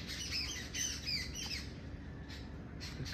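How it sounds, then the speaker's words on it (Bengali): Birds squawk and call in the afternoon, several sharp, near calls in quick succession over a steady background hum, with no talking. "বিকেলবেলা পাখিদের বাড়ি ফেরার আগে, ডাক"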